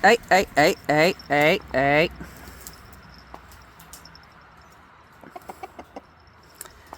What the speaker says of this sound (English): when they start crowing back and forth